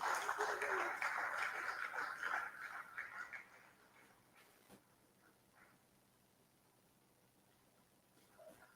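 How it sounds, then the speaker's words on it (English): Applause from delegates at a trade union conference hall sends off a departing speaker, a dense patter of clapping that fades after a few seconds into quiet room tone with distant voices. "Give him a round of applause as he leaves."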